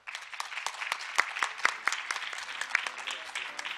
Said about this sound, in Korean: 발표자분들께 감사의 박수를 드리는 것으로 올 세션을 모두 마치도록 하겠습니다